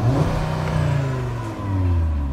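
An Audi RS3's engine revs hard and close, a loud sustained growl that holds steady, dips briefly and then climbs again, with no talking over it.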